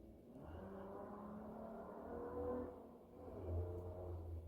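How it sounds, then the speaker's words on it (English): A race car engine revs somewhere off in the distance on a back road, a low rumbling drone that swells and fades twice, with no talking. "I hear one of them race cars over on the back road."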